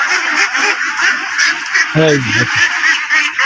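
A duck gives one short, close quack amid the steady hubbub of a poultry market stacked with cages of broiler, layer and local chickens, while a person talks nearby.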